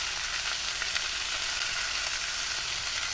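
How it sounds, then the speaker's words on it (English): Vegetables for chicken fajitas sauté in a hot pan, giving a steady, even, close sizzle and hiss with faint stirring scrapes and no talk. "Get this good and stirred around, and let those soften up and saute"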